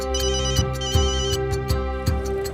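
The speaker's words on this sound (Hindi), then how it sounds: "जरूर माया का ही होगा। मैं ही फोन ही बंद कर देता हूँ" A mobile phone ringtone plays a bright, repeating melodic pattern, with several evenly spaced cycles, clear and alone with no talking.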